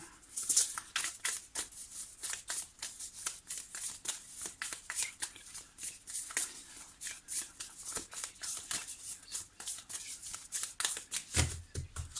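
Tarot cards being shuffled by hand, a steady run of crisp riffling and slapping bursts close up, continuing without pause and with no talk over it.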